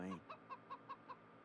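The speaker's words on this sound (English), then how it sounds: "Chicken." A chicken in the video game Wasteland 3 gives a short series of about six evenly spaced clucks, close and fairly quiet, with no talk over them.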